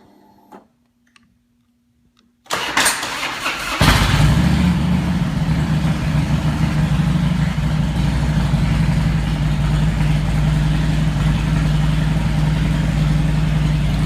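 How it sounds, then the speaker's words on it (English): A 2005 Harley Davidson FLHT with a slightly low battery: a click in near silence, then a short crank before the V-twin fires and settles into a loud, steady, throbbing idle close by. "Let's turn the ignition, fire this thing up."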